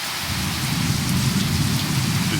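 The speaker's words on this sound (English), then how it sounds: "It is absolutely pouring out here. Lightning, thunder" Heavy rain pours down during a thunderstorm at a resort near Epcot, a dense, loud, continuous hiss of falling water with a low rumble of thunder underneath.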